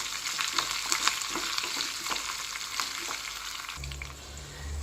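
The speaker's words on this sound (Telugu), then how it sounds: "ఇది కొంచెం పచ్చివాసన పోయేంత వరకు వేయించుకుందాము." Curry leaves and coriander sizzle in hot oil for a tempering, a steady close crackling fry with light stirring, then a low hum near the end; no talk.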